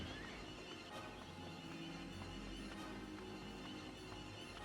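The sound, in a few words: horses neighing in the video game Drakengard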